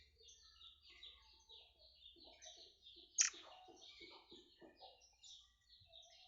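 A murai air songbird chirps in short, scattered high notes, with one sharper louder call in the middle, fairly faint and close against a quiet low hum, no voices.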